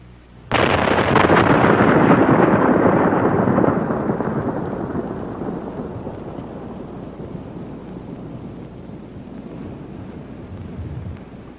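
Primer cord explosive charges detonating to blast craters outdoors, one sudden loud boom that rolls and rumbles, then slowly decays over several seconds without any talk.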